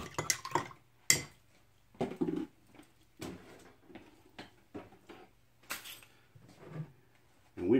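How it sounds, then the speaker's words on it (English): A metal spoon stirs three teaspoons of instant coffee in a mug, giving a series of irregular, fairly close clinks and scrapes with short quiet gaps between them. "So I put 3 teaspoons in, 2 and 3. Mix that bitch up."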